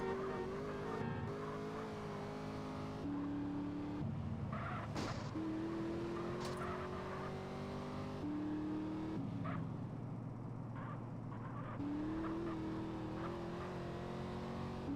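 A car in the game GTA San Andreas is driven with repeated revving engine pitch climbs, gear shifts and brief skids or tire squeals, loud and continuous, with no talking.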